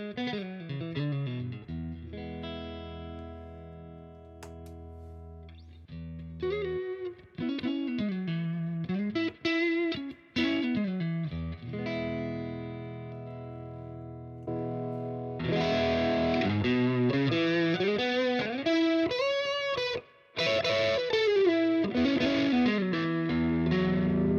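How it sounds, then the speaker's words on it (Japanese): Distorted electric guitar played through a real tube amp cabinet at home, captured by a condenser microphone in front, with chords, bending lead lines and riffs at moderate volume and no talking. "真空管アンプ実機のキャビネットからの音を聞いていただきたいと思います"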